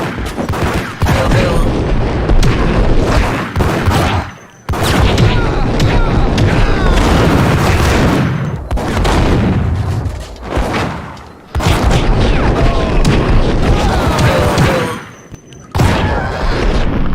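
Loud, sustained volleys of gunfire and booming explosions from a shooter video game, in long dense bursts separated by short lulls.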